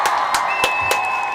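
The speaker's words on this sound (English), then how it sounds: "We're giving all the Ujamaa babies a round of applause." A small group claps and cheers for the Ujamaa babies during a community toast, sharp claps landing in a loose rhythm over a steady bed of crowd noise, close and fairly loud.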